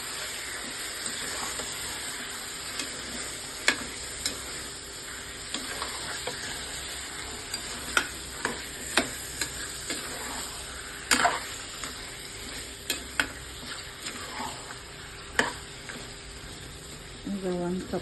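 Mutton pieces sizzle and fry in a pot for biryani, a steady hiss punctuated by repeated clinks and scrapes of stirring, with a voice speaking intermittently over the cooking.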